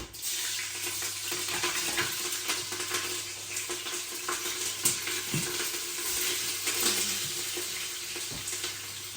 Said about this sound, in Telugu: పచ్చిమిర్చి, ఇంకా ఉల్లిపాయ అవన్నీ వేస్తున్నాం మనం. అవన్నీ బాగా ఫ్రై అవ్వాలి.